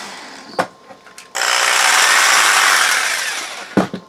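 A power tool, a drill or scroll saw running on a 12V LiFePO4 battery, whirs loudly for a few seconds, starting abruptly after some clicks and handling noises, then stopping with a couple of clunks.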